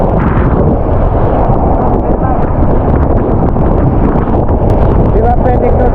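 Strong monsoon-season wind at the beach roars and buffets the microphone in a loud, constant rumble, with a voice faintly audible beneath the gusts.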